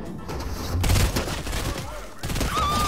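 Gunshots and combat effects in Fortnite, a dense loud flurry of firing and impacts with game sound effects, a voice speaking briefly over it.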